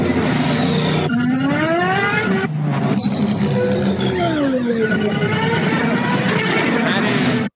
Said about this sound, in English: That is the sound of a pod racer from Star Wars Phantom Menace.